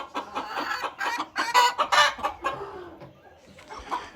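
Chickens cluck in a poultry breeding pen that holds a porcelain bantam rooster among mixed hens. Several birds give overlapping, fairly close clucks and calls for a few seconds, quietening toward the end.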